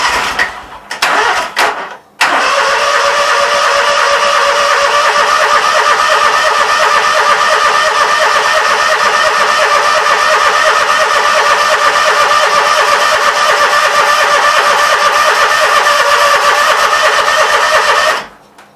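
A Briggs & Stratton Vanguard engine is cranked briefly, then fires and runs steadily and loudly for about sixteen seconds before cutting off abruptly, with no talk over it.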